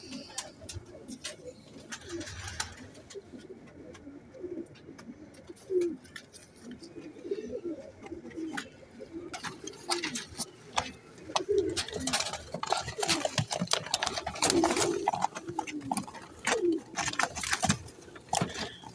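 Four Ferozpuri and two Teddy pigeons coo in soft, throaty rolling calls close by, over scattered rustling, wing flutters and clicks.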